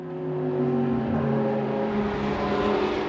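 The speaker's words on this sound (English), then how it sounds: "Pierre Caffer is wringing every bit of performance out of the Audi." An Audi race car at speed in an endurance race gives a loud, sustained engine drone with a rising pitch that holds, carrying on without speech.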